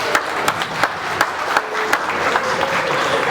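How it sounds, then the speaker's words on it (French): Audience clapping at the opening of a private school in Mohammedia, Morocco: a dense, steady round of applause from a crowd, with sharper individual claps standing out throughout. "il faut les applaudir."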